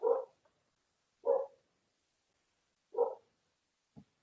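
Pet dog barking indoors during an online class session, three short separate barks about 1.5 seconds apart, moderately close with silence between, followed by a faint brief thump.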